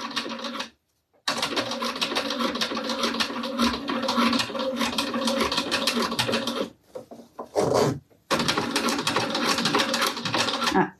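Sewing machine stitching a topstitch seam, running in steady rapid bursts with two short pauses, loud and close with no talk over it.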